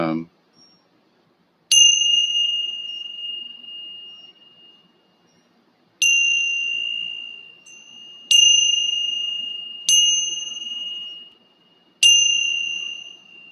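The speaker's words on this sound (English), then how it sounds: "I have the Chinese ringing bells here" A series of clear tones from Chinese bells rings out during a group meditation, five strikes spaced a couple of seconds apart, each bright chime lingering and fading before the next.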